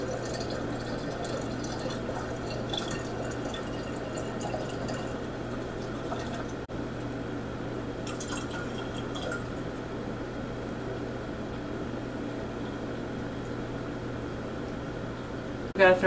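Water pours steadily into a home-brewing jug being filled to the one-gallon mark, a continuous close rushing stream with a faint clunk at the end.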